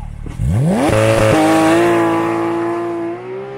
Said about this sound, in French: Il y a un launch control. Frein à fond, gaz à fond.